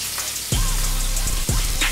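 Scallops sear in a hot pan with a soft, steady sizzle that carries on through the short moment, quiet and close.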